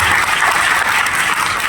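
An audience at a college play event claps in a dense, loud burst of applause that holds steady for its short length, with no voices heard.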